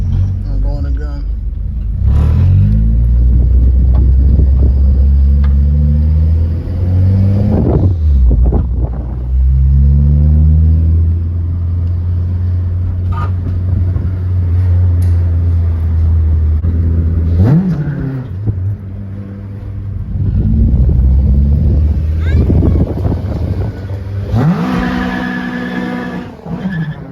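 A K-swapped Honda Civic EM2 with a twin disc clutch revs hard and accelerates through several gear changes, loud rising engine howls broken by brief dips between shifts, with talk inside the car at times.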